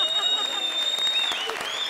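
Brief audience applause on the Comedy Circus TV comedy stage show, quick clapping mixed with a sustained musical tone and a voice, lasting under two seconds.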